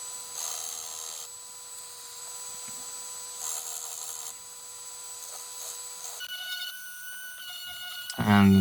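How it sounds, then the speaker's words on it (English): An orbital sander works over scrap wood for a desk setup, giving a steady whining buzz with shifts in pitch as pressure changes, then a brief louder scrape at the end. "moved to the orbital sander"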